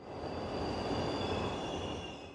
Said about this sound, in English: The subway takes you everywhere.